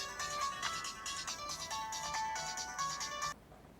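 Phone ringtone of an incoming call playing as a melodic electronic tune for about three seconds before cutting off, in a quiet domestic scene with no talk.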